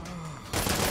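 Sniper gunfire in the video game Saints Row: a sudden loud crack-laden burst hits halfway through after a quieter stretch and rings on to the end.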